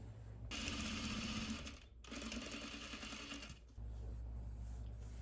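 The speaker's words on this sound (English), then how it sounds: "lay it flat, and simply just stitch over it to keep it in place" A sewing machine stitches over elastic on a pair of shorts in two quick runs split by a short pause, close and clear with a steady motor hum between.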